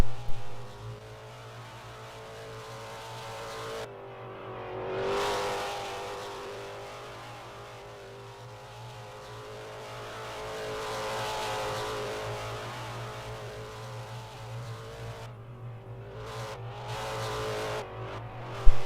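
A Fox-body race car lapping Richmond drones steadily, its engine note rising and falling as it accelerates down straights and eases into turns, with a constant low rumble and no talking.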